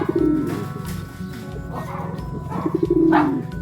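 A racing pigeon coos in low, throaty, repeated phrases close by in a loft, with some rustling and background noise between the calls.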